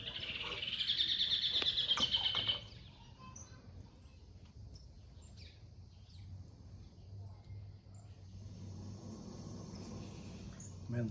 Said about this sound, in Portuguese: Nós estamos ouvindo aí um canto de um pássaro, né? É um João de Barro cantando ali, bem bonitinho.